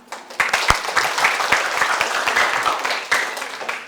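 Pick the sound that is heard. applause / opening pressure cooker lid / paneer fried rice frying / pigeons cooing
applause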